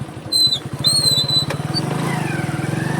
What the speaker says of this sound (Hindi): देखो मैंने अभी से हाफ क्लच दबा रखा है